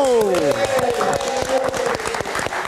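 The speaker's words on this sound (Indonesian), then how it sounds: "Kita berikan tepuk tangan sekali lagi untuk Lail Manino." Audience applause at a live Indonesian music show, with scattered claps mixed under loud, sustained music and sliding tones, the crowd noise steady but partly masked.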